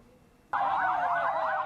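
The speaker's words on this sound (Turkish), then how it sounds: "Aralıksız siren sesleri kentin her köşesinden duyuluyor." A loud emergency siren suddenly starts and wails steadily up and down across a city, a warbling tone with faint low rumble beneath, in Benghazi, Libya.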